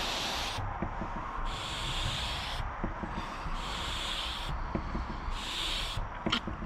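Steady rhythmic rubbing of sandpaper on a boat tabletop, back-and-forth strokes in regular bursts over a constant low rumble.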